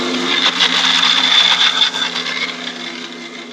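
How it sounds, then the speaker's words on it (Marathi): A kitchen mixer blends watermelon juice with a steady, loud whir that holds for a few seconds and then eases off slightly as the blades spin. No one speaks over it. "हे बघा ह्याला आता मिक्सरला लावून घेणार."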